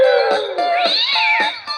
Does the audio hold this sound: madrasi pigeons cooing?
no